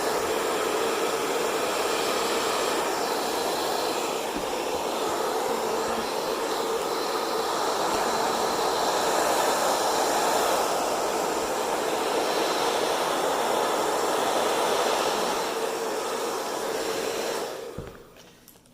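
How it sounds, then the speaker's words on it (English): A hair dryer set to its highest heat but not full blast blows steadily and loudly up close for a long stretch, then cuts off near the end. "I do have my hair dryer on the highest setting for heat wise, I'm not using it at full blast"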